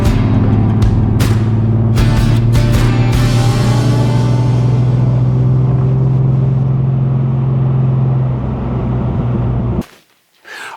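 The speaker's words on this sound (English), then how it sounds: "a 6-cylinder sports car with a manual transmission makes that great sound" A 1966 Mercedes-Benz 230 SL with a six-cylinder engine and a four-speed manual drives along with a loud, steady engine drone, a few sharp cracks early on, before the sound cuts out abruptly near the end.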